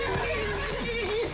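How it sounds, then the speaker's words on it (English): A horse whinnies in a Game of Thrones scene, a single drawn-out neigh with wavering pitch, heard close and clear over faint background sound. "That's my Uncle Benjen's horse."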